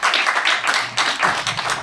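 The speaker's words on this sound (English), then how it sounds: "Can we show our appreciation, please, through a hand clap and a wave online?" A brief burst of hand clapping from an audience at a commemorative event, loud and close, with dense, uneven claps running steadily for under two seconds.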